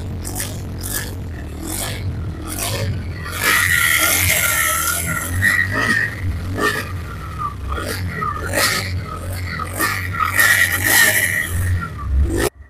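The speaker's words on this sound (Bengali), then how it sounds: "ইঞ্জিনের সাউন্ড শুনতে পাচ্ছেন।" A second-hand TVS Raider 125 cc motorcycle idles with a steady low engine hum and a few light revs, while scattered clicks and handling noises sound close by.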